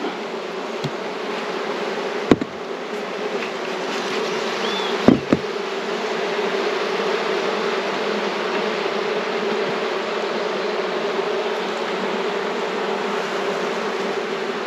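A dense, steady buzz of honeybees rises from an opened hive as supers are added and a new swarm is checked, loud and close throughout, broken by a couple of sharp knocks of hive equipment.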